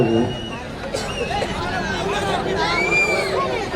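A crowd at a jallikattu bull-taming event makes loud, continuous hubbub, with cheering voices and shrill whistles rising and falling close by.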